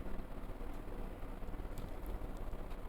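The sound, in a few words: mung dal frying in a pan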